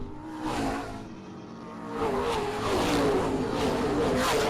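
Race cars run single file around the 3/8 mile Springport Motor Speedway, a steady engine roar that swells and fades as the field passes, with an announcer talking over it.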